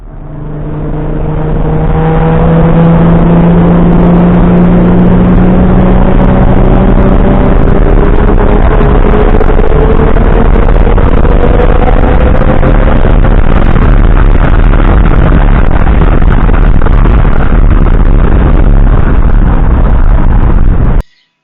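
A 2012 Ford Mustang V6 driven hard on a race track, its engine loud and close, climbing in pitch through the gears with steady revving and a long sustained drone, no talk over it.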